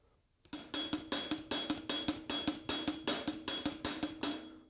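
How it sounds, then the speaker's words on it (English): A drum kit plays a four-note grouping with the left hand in straight eighths, a steady run of about twenty evenly spaced, crisp hits that starts after a brief silence and has no talking. "this is what the left hand sounds like"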